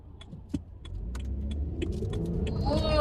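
BMW Z4 sDrive M Sport roadster on automatic pulling onto the motorway, with a low engine drone swelling steadily as it accelerates, light interior rattles and clicks, and a rising whine near the end.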